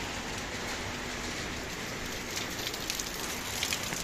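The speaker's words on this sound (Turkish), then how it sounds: "bugün güzel bir yağmur yağıyor İzmir'de" Steady, dense rain in Izmir hissing evenly throughout, with no voices, just a continuous wash of falling water.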